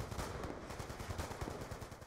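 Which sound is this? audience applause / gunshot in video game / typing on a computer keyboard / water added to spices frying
gunshot in video game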